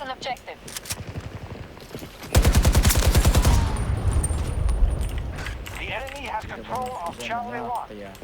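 Bursts of rapid automatic gunfire in a shooter video game, a dense rattling volley that sets in loudly partway through and carries on in short strings while someone talks excitedly over it.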